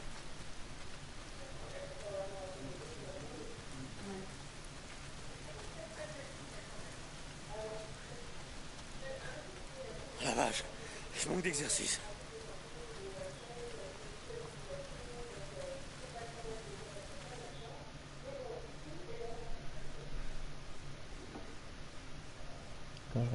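Heavy rain pours in the video game Days Gone, a steady hiss of dense drops running throughout under faint speech and a few louder clattering moments.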